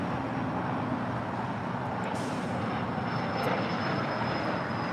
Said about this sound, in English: Philippine Airlines Flight 112 coming in from Manila. It's a 777-300ER.